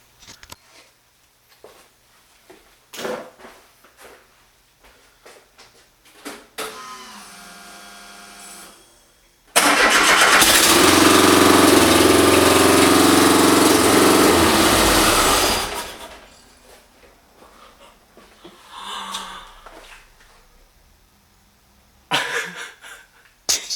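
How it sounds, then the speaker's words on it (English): Subaru engine swapped into a Volkswagen Super Beetle firing up for the first time: after scattered clicks and a cranking whir, the engine catches and runs loud and rough for about six seconds, then shuts off, followed by quiet clatter. "So I'm going to close everything up and see if we can get it to fire now."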